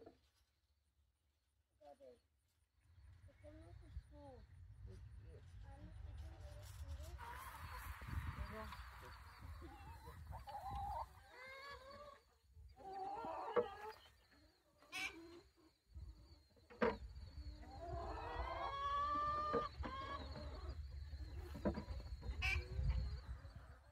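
Hens on a family homestead cluck and squawk in short bursts over a steady low background hum, with some bird calls standing out near the end.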